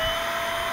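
A Stihl BGA56 battery leaf blower runs with a steady, even motor whir and an airy rush of blowing air, continuous and fairly quiet throughout, with no voices.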